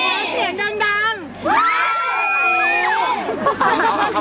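A crowd of fans in a television interview studio cheers and shouts loudly, with high excited voices and whoops rising in a burst that drops briefly and swells again to a sustained roar.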